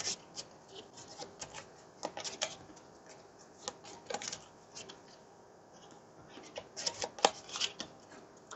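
Cards from the infection discard pile of the Pandemic Hot Zone board game being shuffled, a run of soft riffling and rubbing bursts with sharper snaps near the end, close and fairly quiet with no talking.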